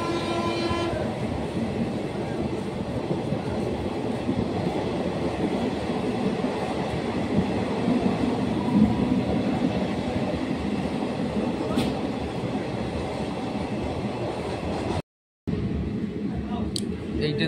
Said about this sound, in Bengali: এই ট্রেন দাঁড়াবে হচ্ছে